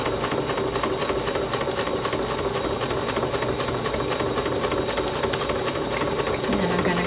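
A sewing machine runs steadily while stitching a messy-look tuck spot onto a journal, a fast continuous mechanical whir and rattle, close and loud throughout, without pause.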